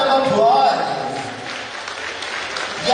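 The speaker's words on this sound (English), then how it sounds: "How about we give ourselves a big round of applause?" A crowd at a Cebu Provincial Arts Month 2026 competition gives a full round of applause, a steady wash of clapping that holds for about three seconds with a voice briefly over its start.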